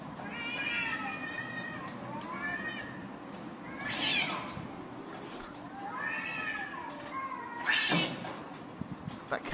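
A cat yowls and caterwauls at a crow in long, wavering cries, two drawn-out bouts rising and falling close by, with people talking in the background.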